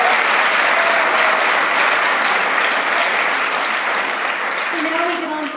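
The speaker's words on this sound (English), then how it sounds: "So another round of applause." An audience at an awards evening applauds steadily, a dense wash of clapping that holds strong for about five seconds with a faint voice coming through near the end.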